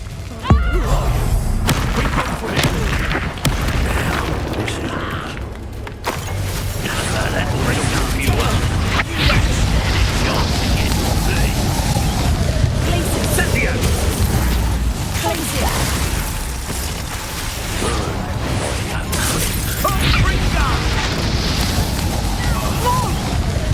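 Blasts from the Confringo explosive spell in Hogwarts Legacy: repeated booming impacts in a dense, continuous wash of game sound, with voices talking over parts of it.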